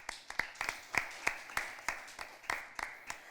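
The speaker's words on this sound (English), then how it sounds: "Please give them a round of applause." Sparse, distinct hand claps from a small group at a secondary school debate ring out in a steady, evenly spaced rhythm, fairly quiet overall.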